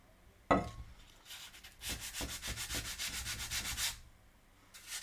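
Sanding glazed ceramic by hand: after a sharp knock, a run of rhythmic back-and-forth rasping strokes, about a dozen quick scrubs close by, then a pause and a final faint rub, no talk.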